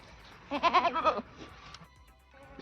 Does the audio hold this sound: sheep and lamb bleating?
yes